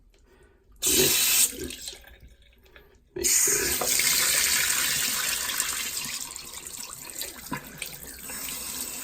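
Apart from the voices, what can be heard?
water running from faucet through siphon tube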